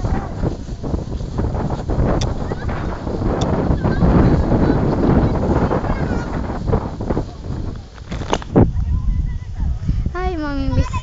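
Wind gusts across the microphone outdoors, a continuous rough rushing that swells and dips over several seconds. Voices are faintly audible beneath, and a few short sharp knocks cut through.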